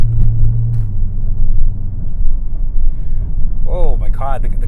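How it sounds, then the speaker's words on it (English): A supercharged Dodge Magnum SRT-8 V8 with air suspension rumbles loudly and steadily from inside the moving car, a deep continuous drone, with a voice briefly heard near the end. "You can hear the supercharger whistling or something."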